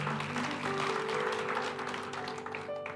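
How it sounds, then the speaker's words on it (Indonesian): A church congregation applauds during a sermon, a moderate, continuous clapping from the room that fades slightly toward the end, with some faint tonal sound underneath. "Tepuk tangan."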